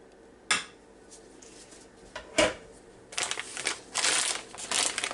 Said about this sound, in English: Take a knife and sort of stir it up just a little bit, so you'll get some cornbread in the bottom of it too